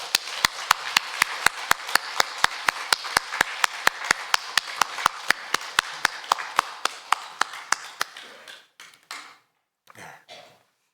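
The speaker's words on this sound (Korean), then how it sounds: "우리도 힘찬 박수로 영광 돌립니다." A church congregation claps in unison during a Sunday service, sharp rhythmic claps at an even, brisk pace that keep time for several seconds and then fade out, followed by a few faint scattered sounds.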